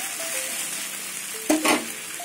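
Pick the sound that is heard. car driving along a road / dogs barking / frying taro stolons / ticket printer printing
frying taro stolons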